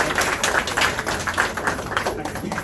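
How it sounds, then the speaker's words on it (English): Dense, continuous applause from a community gathering crowd clapping for volunteers in a hall, steady and fairly loud throughout with no talking on top. "But I want you to give them another round of applause, please."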